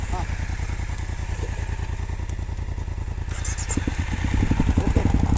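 Honda Africa Twin 1100cc motorcycle engine rumbling steadily at low speed with a pulsing idle beat, growing a little louder near the end as it pulls away, with people talking over it.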